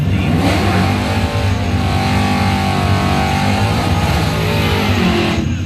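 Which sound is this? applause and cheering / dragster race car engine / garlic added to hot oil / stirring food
dragster race car engine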